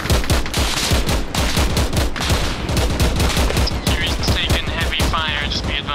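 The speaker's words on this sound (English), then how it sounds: "You're getting shot at now." Dense, continuous gunfire from the video game Arma Reforger, with rapid overlapping shots and bursts from several weapons, loud and close, filling the whole stretch without pause.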